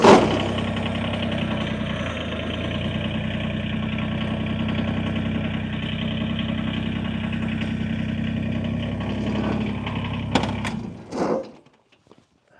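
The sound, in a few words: tractor engine running while being moved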